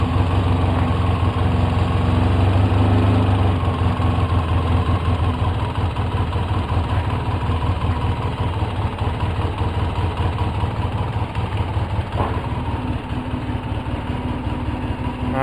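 A 2004 Polaris Sportsman 700 ATV engine idles roughly and a little high, a loud, steady close-up drone with uneven pulsing throughout and no talking.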